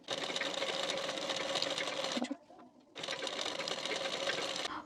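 A sewing machine runs a steady, fast stitch along a folded hook strip on a boat-neck blouse. It stops briefly partway through, then resumes at the same close, even pace, with no talking.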